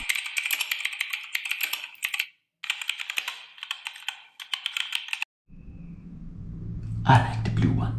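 Rapid clattering keystrokes on a Keychron mechanical keyboard, close and loud, in bursts with brief pauses, followed by a low rumbling sound and a short voice near the end.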